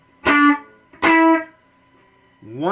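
Two short, punchy distorted electric guitar notes from a riff ring out about a second apart, each clipped off quickly, before a third note begins at the end.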